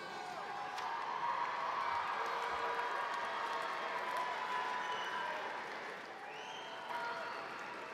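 Graduates at a North Dakota State University spring commencement applauding and cheering their loved ones, a broad crowd of clapping and whoops filling a large hall, steady for several seconds before easing slightly.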